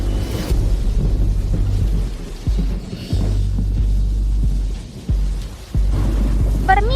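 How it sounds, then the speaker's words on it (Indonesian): Heavy rain pours steadily with a low rumbling thunder-like throb beneath it, loud and continuous with brief dips, and a faint chirping sound near the end. "Permisi, hujan deras."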